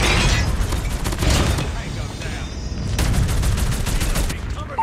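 Sentry gun firing in a Call of Duty-style hardpoint match, rapid automatic bursts in loud sustained streams, mixed with explosions and other battle noise, briefly easing before picking up again.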